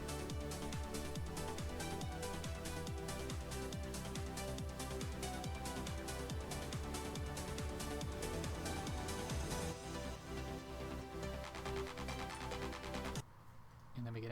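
Tonal sweep riser effect layered over a dense music track, with full-band sound rising steadily before dropping away near the end.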